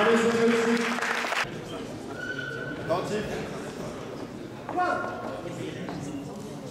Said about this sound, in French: Et c'est un essai, on applaudit Roland.